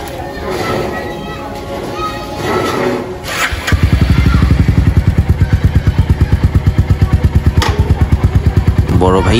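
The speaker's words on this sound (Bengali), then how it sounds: "বড় ভাইয়া রয়্যাল এনফিল্ডকে ভিতরে এনে সেফে রাখা হচ্ছে, যাতে করে কোনো স্ক্র্যাচ না পড়ে।" A Royal Enfield motorcycle starts up and settles into a loud, steady thumping idle close by, with a busy wedding-preparation setting and voices around it.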